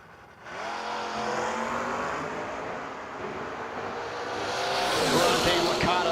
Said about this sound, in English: 85 Mustang.